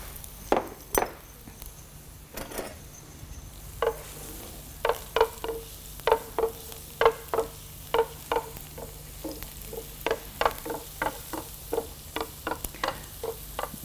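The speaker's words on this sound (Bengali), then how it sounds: "তেলটা গরম হয়ে গেছে। জি, আমরা এখন গার্লিকটা দিয়ে দিচ্ছি।" Garlic dropped into hot oil for a Ramadan iftar dish, heard as a run of sharp crackling pops and spits over a steady low sizzle, close and fairly loud, with no voices.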